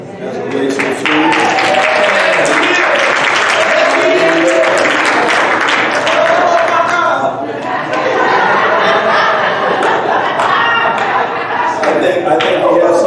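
Audience applause at a church outreach service, sustained and loud across the whole stretch with chatter and laughter mixed in, while a voice talks over parts of it.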